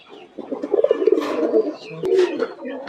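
Pigeons coo in a small hobby farm loft, among them a black Shekhar pigeon: a run of low, rounded coos with a second burst near the end, close by and fairly loud with a faint voice in the background.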